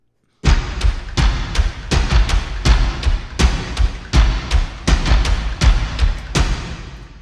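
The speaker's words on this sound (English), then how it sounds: "the whole percussion package sounds like this" A dense, loud percussion groove built entirely from a processed violin for a Westworld-themed one-violin score, with rapid booming thuds and sharp hits in a driving rhythm.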